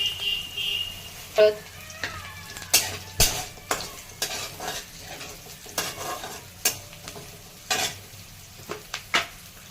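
Onions and green chilies frying in oil with cumin in a pan, stirred with a spatula that gives repeated sharp metallic clinks and scrapes over a soft, steady sizzle, close up and without talk.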